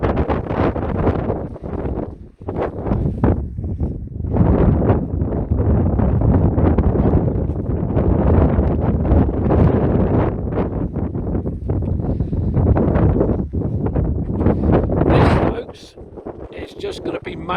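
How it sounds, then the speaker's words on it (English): Strong, continuous wind buffeting the microphone on the open coast at Studland Bay, a loud rumbling roar with gusty surges that runs nearly unbroken for most of the clip before dropping briefly near the end. "The audio I doubt can even pick this up because of the wind"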